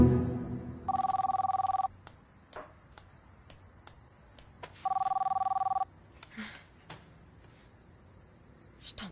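A telephone rings in a French TV drama series, two loud one-second bursts of electronic trilling a few seconds apart, with quiet clicks and small knocks between them.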